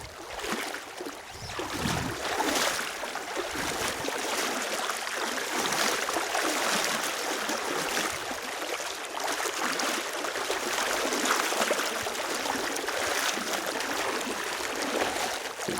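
Cold, shallow river water swirls and splashes around a wader's legs on a coastal path, a continuous bright rushing trickle with occasional heavier sloshes, close and steady, no talk.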